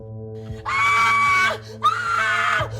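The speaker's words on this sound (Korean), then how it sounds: "마을에 울려 퍼진 의문의 비명 소리" A woman screams twice in a village, each a long, loud, piercing cry near the listener, separated by a brief gasp, set over a low droning music bed.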